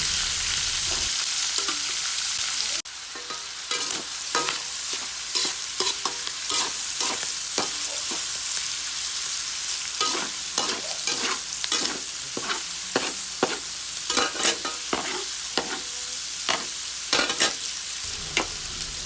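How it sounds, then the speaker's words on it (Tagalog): Pork meat for dinuguan fries in a pan until browned, a continuous loud sizzle broken by rapid, repeated spatula scrapes and clatters against the pan, close up, with no talking. "Ilagay na rin natin ang laman ng baboy. Hayaan din lang natin hanggang sa mag-brown."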